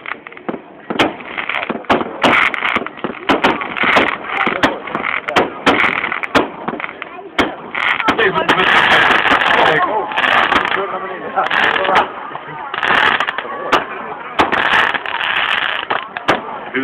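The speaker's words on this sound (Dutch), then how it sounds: "dit is toch heel mooi vuurwerk voor oud en nieuw" Rapid sharp New Year's Eve fireworks bangs crackle in a steady barrage, loud and close, with bursts of fizzing crackle and people talking underneath.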